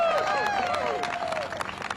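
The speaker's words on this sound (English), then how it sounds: "how about a huge round of applause for Mayor Michelle Wu of Boston?" An outdoor crowd in downtown Boston applauds for Mayor Michelle Wu at a block party event, a continuous patter of clapping with scattered whoops and cheers.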